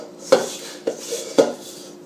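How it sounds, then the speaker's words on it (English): Sticky bread dough for bacon rolls is scraped from the walls of a mixing bowl, three sharp knocks of the utensil against the bowl with softer scraping between them, close and alone. "With my dough, I'm trying to scrape the walls"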